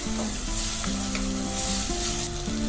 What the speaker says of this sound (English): Then add ginger and garlic paste. Give a mix again.